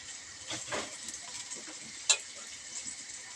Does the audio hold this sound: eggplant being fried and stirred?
yes